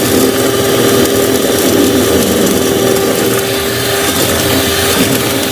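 Cheap electric hand mixer rated around 100,000 rupiah running at steady speed while mixing cake batter, a loud continuous motor whir with a faint tonal whine, and a voice briefly speaks at the start.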